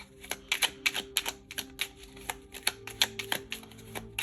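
Tarot cards are shuffled in the hands, a quick run of crisp, close riffling snaps and soft slaps in uneven bursts, fairly quiet with no talk.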